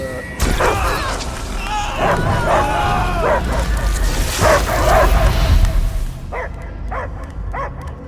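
Dogs bark and yip in the Guardians of the Galaxy game, repeated sharp barks over a loud, busy backdrop, with a few clear isolated barks near the end as the noise drops away.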